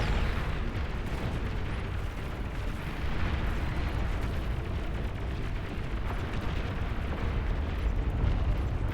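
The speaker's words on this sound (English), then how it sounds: "Got another attempt at a bombing run coming from Mimi." Bombing run in the strategy game Beyond All Reason, a dense, continuous rumble of overlapping explosions and booming artillery-like blasts, loud and sustained throughout with no talk.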